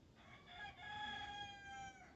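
A rooster crows once, a single drawn-out call of about a second and a half, heard faintly at a distance near snow-covered beehives after a storm.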